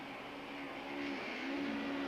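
Touring car engines idle and rev on the grid at the start of a 1995 Super Touring race at Killarney, heard from an onboard camera in an Opel Vectra, a steady loud drone with a rising engine tone.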